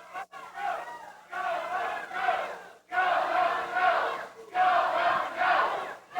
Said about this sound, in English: Now they're kind of measuring the crowd reaction.